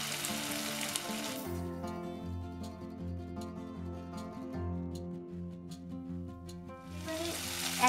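Bengali chicken kosha frying in a pan: sizzling at the start and end, with steady tonal music dominating the middle.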